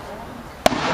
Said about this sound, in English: she's assisted by the enemy shore battery opening fire on our escort vessels pursuing her